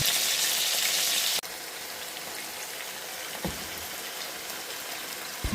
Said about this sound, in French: Je vous laisse un peu avec le son de la friture.